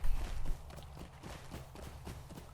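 A horse ridden through the Lord of the Rings Online game gives a quick run of hoof clip-clops, soft and fairly even, after a brief louder thump at the start.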